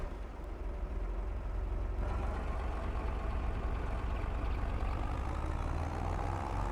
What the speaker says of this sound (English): I really like the sound of this tractor.